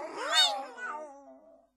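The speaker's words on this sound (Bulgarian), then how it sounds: "Мяу!" A single drawn-out, wavering cat meow voiced by a performer in a puppet theatre play, rising then trailing off, loud and close, standing alone.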